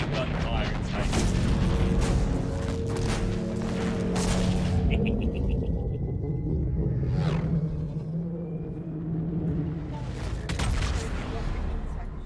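Rapid bursts of gunfire and deep booms in space from the video game Mass Effect 3 rumble under people talking, then ease off before another burst.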